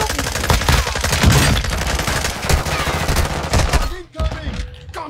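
Dense, continuous automatic gunfire and rapid shots in the military shooter video game DMZ, loud and close, with brief bursts overlapping before a short drop near the end.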